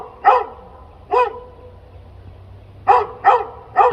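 A dog in a Louisiana yard barks in short sharp bursts, two single barks followed after a pause by a quick run of three, loud and close with no talking.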